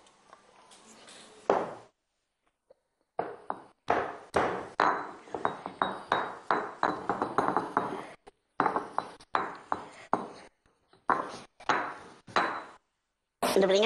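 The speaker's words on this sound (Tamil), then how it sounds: "இந்த சுக்கை நல்லா தட்டி அரைக்கணும்" Soaked dry ginger pounded by hand, a series of sharp close knocks with a faint ringing edge. The strikes come in uneven clusters, about one or two per second, with brief pauses between them.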